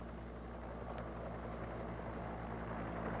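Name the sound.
helicopter with rotor blades turning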